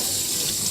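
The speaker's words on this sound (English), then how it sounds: "I'm going to pour it right into the sink here" Liquid, port wine, poured straight into a sink, making a steady close splashing stream like a running tap for the whole moment, with no voices.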